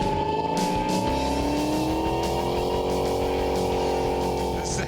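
A replica of the Bullitt movie car drives down the road, its engine holding a steady, loud rumble with harmonic tones that rise slightly as it pulls along, continuous for the whole stretch.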